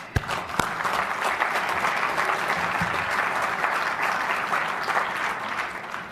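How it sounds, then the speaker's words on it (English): Audience applause at a mayors and business leaders breakfast, steady full-room clapping that continues evenly for about six seconds with no break. "Let's give them a round of applause."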